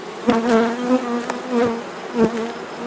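Honey bees buzz steadily inside an opened beehive with dark frames, a dense droning hum with wavering pitch and a few brief louder passes of individual bees close by.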